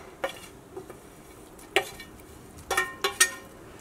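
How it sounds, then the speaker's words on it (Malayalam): Curry with fried green chillies being stirred in a pan, heard as a few sharp spoon-on-pan scrapes and clinks spaced irregularly over a quiet simmering background. "ഇതെല്ലാം കൂടിയിട്ട് ഒന്ന് മിക്സ് ചെയ്യാം."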